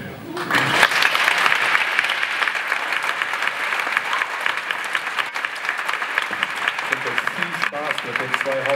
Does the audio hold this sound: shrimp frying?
no